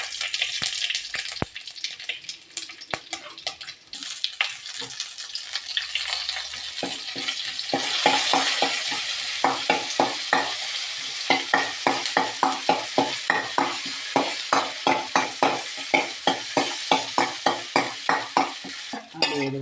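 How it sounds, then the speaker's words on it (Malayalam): Mustard seeds splutter and pop in hot oil for a Kerala banana-curd pachadi, a steady sizzle building into rapid, regular crackling bursts that stay close and loud throughout, with no voices. "ഇനി ഒരു സ്പൂൺ കടുക് ഇട്ട് കൊടുക്കുകയാണ് പൊട്ടാൻ വേണ്ടി"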